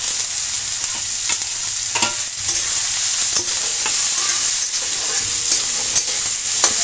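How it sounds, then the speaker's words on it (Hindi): Onions and bay leaf fry in oil over a medium gas flame, the start of a shahi paneer. A loud, steady sizzle sits close by, broken by frequent spatula scrapes and stirring clicks, with no talking. "प्याज सूख होने तक पकाऊंगी। मीडियम रखें गैस को।"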